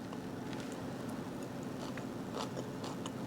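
Crunchy bites and chewing on crispy, slightly burnt roasted cauliflower glazed in BBQ sauce and topped with gruyere cheese, a few close crackling crunches over a steady low background hum.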